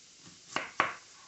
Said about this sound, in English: I'm going to chop up this onion.